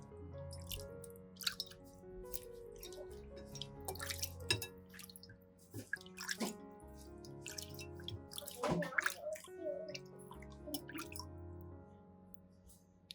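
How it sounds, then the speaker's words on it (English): Water runs from a tap over a kitchen knife being rinsed after cleaning, with irregular drips, splashes and small metallic knocks at close range in a quiet room, without any talk. "Finally, rinse thoroughly with water."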